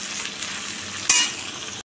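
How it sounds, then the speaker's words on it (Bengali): Onions frying in a pan for chicken kosha give a steady, close crackling sizzle with a sharper burst of spitting hiss partway through, then cut off abruptly near the end. "এবার লাল করে ভাজবো।"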